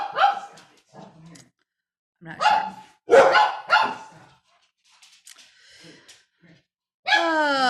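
Several excited dogs bark in separate bursts, close and loud, with gaps of silence between them, and a person briefly speaks amid the barking.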